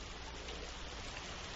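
Rain falls at night in a war-drama scene, a soft, even wash of drops that stays steady and fairly quiet throughout, with no talking.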